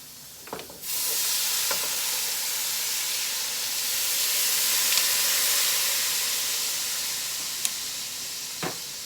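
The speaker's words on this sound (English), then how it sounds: "we're gonna make some gravy" Gravy simmering and sizzling in a pan with Worcestershire sauce, a steady close hiss of bubbling liquid broken by a few faint clinks of a utensil stirring.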